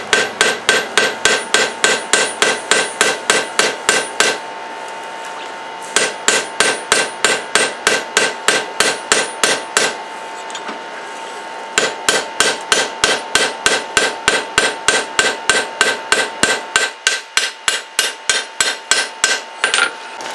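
Rhythmic, ringing hammer blows fall on hot Damascus steel as a knife is forged by hand, loud and close, in three long bursts of rapid strikes separated by short pauses.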